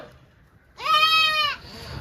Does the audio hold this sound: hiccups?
no